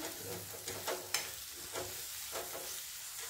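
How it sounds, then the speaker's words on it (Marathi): Boiled val bean pods being stir-fried with turmeric in a pan, giving a soft, steady sizzle with a few scraping stirs, close but quiet. "परतत असताना यामध्ये हळद, छान रंग येईपर्यंत व्यवस्थित असं परतून घ्यायचं."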